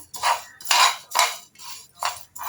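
Spices dry roasting in a pan for a sour, spicy and sweet pickle, stirred with five rhythmic scraping clinks of a utensil against the metal, each a clear, close stroke separated by brief pauses.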